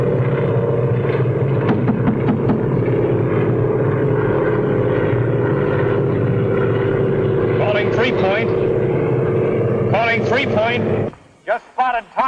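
A 1939 airplane engine drones steadily in flight as it comes in to land over a burned meadow in the hills, a loud continuous roar throughout with voices talking over it before it cuts out near the end.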